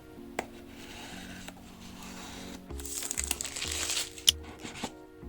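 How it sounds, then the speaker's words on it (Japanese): Packaging for Earfun Air Pro 3 earbuds is opened with crinkling plastic and cardboard rubbing, soft and close, over a faint steady background hum, ending in a few sharper crackles and taps. "これから早速ね、パッケージの方を開けて見てみたいと思います"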